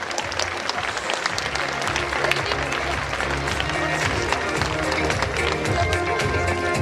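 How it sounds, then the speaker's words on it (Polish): A hall crowd applauds award winners at the 2014 Lubawa sports gala in Poland, with dense, continuous clapping and scattered sharp individual claps throughout, loud and steady with faint crowd murmur beneath. "wielkie brawa dla wyróżnionych"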